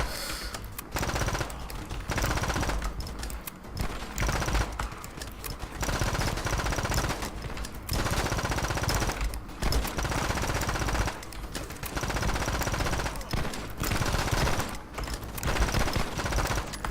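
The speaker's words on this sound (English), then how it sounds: "one-handing an Uzi, firing fully automatic constantly" A one-handed Uzi submachine gun in the shooter game The Club, firing fully automatic in long, loud, rapid bursts separated by short pauses.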